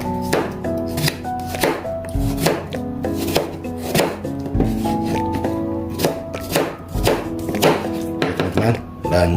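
A knife chops green tomatoes on a cutting board with rapid, irregular strikes, crisp and close, repeating steadily throughout with no talking.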